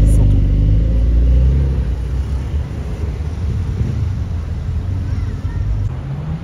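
A BMW M3 Touring accelerates on a street in Zurich, its loud, low engine roar strong at first, then easing into a rumbling pass with traffic noise behind.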